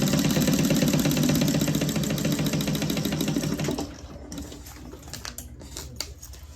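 A sewing machine stitches a basting seam to hold fabric for a carry-all bag, a dense, fast, even mechanical chatter that runs close and loud for several seconds, then stops, leaving faint handling sounds.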